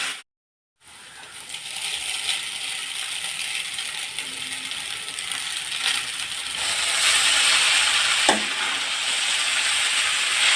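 Noodles cooking in a pan, a steady broadband sizzle of frying that runs throughout and swells louder in the last few seconds, with a brief clink near the end and no voices.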